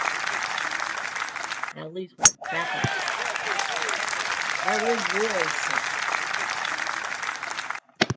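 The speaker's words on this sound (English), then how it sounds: "Why are they clapping?" Spectators clapping at a golf match: a steady burst of applause under commentators' talk, breaking off briefly and then continuing for several seconds.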